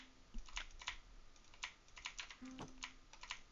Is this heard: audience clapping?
no